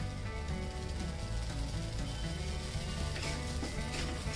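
Amaranth (rajgira) grains dry-roasting in a pan, a steady dense crackle and patter of tiny pops with a hissing sizzle, close and continuous.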